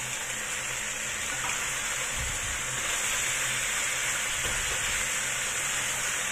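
Chicken afritada with parmesan cheese being stirred in a hot pan, giving a steady, even sizzle and bubbling hiss throughout with faint scraping of stirring, close up.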